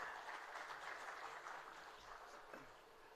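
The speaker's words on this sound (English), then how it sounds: "Can we have a round of applause for the Punjab government here?" An audience at the TiECon Chandigarh 2023 entrepreneurship conference claps in a sustained, even wash of applause that sounds somewhat distant and fades slightly toward the end.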